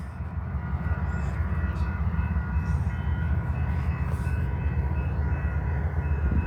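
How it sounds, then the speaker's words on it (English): A BNSF freight train rolls past on the Spokane Subdivision, a steady loud rumble of wagons and rail noise lasting throughout, with faint higher squeals above and no voices. "we got another train coming."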